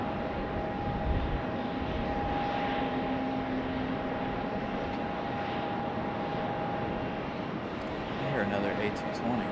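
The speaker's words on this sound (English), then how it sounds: "I hear another A220." An Airbus A220 jet airliner at Raleigh-Durham airport sends a steady distant engine roar across the field, a continuous broad rumble with a faint whine, while people talk nearby.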